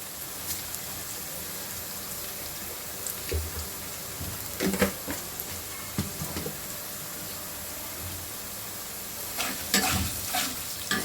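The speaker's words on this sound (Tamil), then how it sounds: "ஆனியன் நல்லா பொறிஞ்சு வந்திருக்கு" Onions fry in oil for a Tamil-style elephant-foot yam curry, a steady soft sizzle under occasional scraping stirs of a spoon in the pan, close and without speech.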